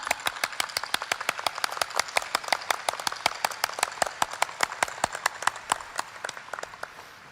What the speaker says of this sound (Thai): ขอให้คุณโยมทุกท่าน ได้ปรบมือให้กับตัวเอง